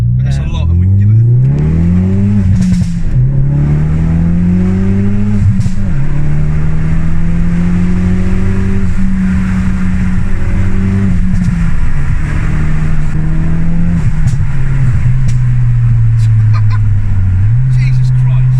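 A 450bhp Ford Focus RS Mk3 accelerates hard, its engine note climbing through the gears, dropping at each shift and rising again, loud from inside the cabin, with occupants talking over it.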